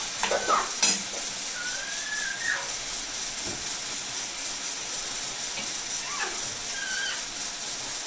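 Tomato masala cooks in a pan with a steady, close sizzling hiss that runs throughout, with a few faint stirring scrapes and thin background chirps.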